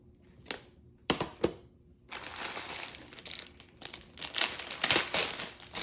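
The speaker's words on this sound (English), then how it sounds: "Sorry for the crinkling." Plastic bag crinkling up close, a few sharp isolated crackles at first, then a dense, continuous rustling and crunching of handled plastic building in bursts.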